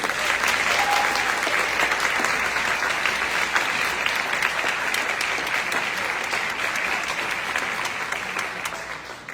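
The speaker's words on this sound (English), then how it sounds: "Let's get one more round of applause for all three speakers." Audience applause fills a community forum hall for three speakers, steady, dense clapping sustained throughout and tapering slightly toward the end.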